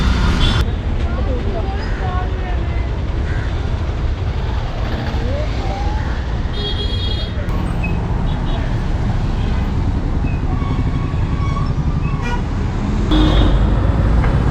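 Traffic rumbles at the Saidapet police station bus stand as an MTC low-floor city bus and other vehicles pass. Horns toot now and then under a continuous road din, and a voice talks over it.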